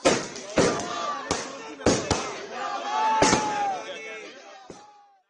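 Firecrackers set off by BJP party workers at a street celebration in Delhi: several sharp, loud pops burst at irregular intervals over a busy backdrop of crowd noise and voices.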